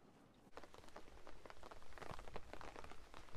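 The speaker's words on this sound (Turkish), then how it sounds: "Çok aşırı yağmur yağıyor." Heavy rain pattering steadily on a surface at a clifftop campsite, a dense, even hiss with scattered drop hits and no talking.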